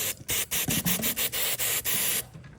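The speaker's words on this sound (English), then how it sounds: "spray some of that freeze off in there" Freeze-off spray hisses into a wheel hub during a wheel bearing job on a 2008–2017 Jeep Patriot, in a rapid series of loud, close bursts separated by brief gaps, with no talking.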